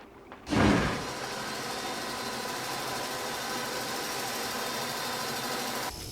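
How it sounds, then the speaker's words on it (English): A sawing machine in a video game gives a sharp start, then a continuous buzzing mechanical drone that holds steady for several seconds and cuts off abruptly. "Saws."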